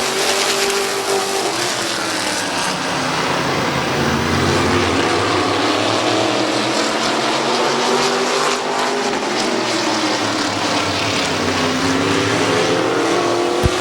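A pack of race cars roars around the oval at Midvale Speedway, engines loud and continuous with rising and falling pitch as the cars race side by side through the turns.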